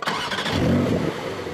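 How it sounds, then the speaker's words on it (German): Close, loud engine roar from a Porsche 911 Carrera S revving hard to warm its tires before a timed course run against a Corvette C7 and BMW M850i, one sustained surge lasting the whole moment. "der macht seine Reifen warm"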